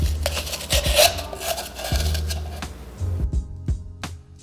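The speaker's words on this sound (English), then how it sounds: "I'm cutting up my foam to fit into my container" Floral foam being cut and trimmed by hand to fit a container for preserved flowers: a close, scratchy rasping and crumbling with soft thuds and short bursts, steady at first, then sparser taps.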